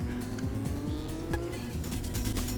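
A racing car engine in a tunnel in the video game Ridge Racer drones steadily and loudly, its pitch climbing and dropping through repeated gear shifts, with faint tire squeals now and then.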